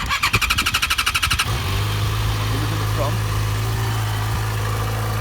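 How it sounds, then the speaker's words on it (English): A motorcycle starter cranks in quick rhythmic pulses for about a second and a half, then the engine catches and settles into a steady, close idle while someone talks over it. "on this particular bike you have to start the engine"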